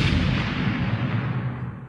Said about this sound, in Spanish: Más vale que tu bomba de sostenes funcione.